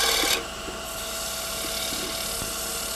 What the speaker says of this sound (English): So that's what we call shear scraping.